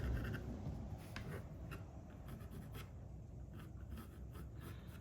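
Pencil sketching a knife sheath outline: steady, faint scratchy strokes of graphite on paper, close and continuous with slight rhythmic rubbing and no voices.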